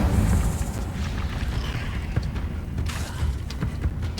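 Incendio fire spell blasts in the Hogwarts Legacy video game battle, muffled booms and bursts over a dense rumbling game soundtrack, steady and fairly loud.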